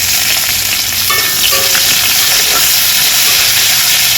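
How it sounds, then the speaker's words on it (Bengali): Whole cumin seeds and chili tempering in hot oil for a rohu fish curry give a loud, dense, continuous sizzle close by. It holds an even hiss throughout, with faint stirring underneath. "ফোড়নটা আমি ভালো করে ভেজে নেব।"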